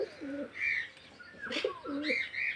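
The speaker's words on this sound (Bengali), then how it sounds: "নতুন যে চারটে পাখি আছে তারাও ডাকাডাকি করছে" Pigeons coo in soft, repeated rounded calls, with a few higher chirps mixed in, close by and moderately quiet, with no talking.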